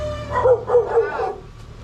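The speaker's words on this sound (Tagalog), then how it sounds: "Yan may mga aso." Several dogs at a rural family home give three quick, close barks in a row, the yaps rising and falling before fading into quiet.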